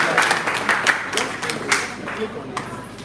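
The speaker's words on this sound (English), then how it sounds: "Clap for ourselves." Audience at a youth convention computer training session clapping, a dense burst of many hands applauding at once that fades over a few seconds, with some voices mixed in.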